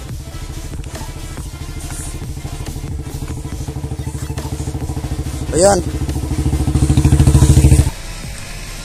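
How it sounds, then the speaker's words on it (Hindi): A motorcycle engine drones steadily and swells louder as it nears through dense fog, with a voice briefly speaking over it before the noise cuts off. "उधर बाइक आ रही है"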